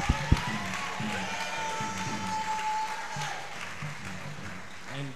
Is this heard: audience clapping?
yes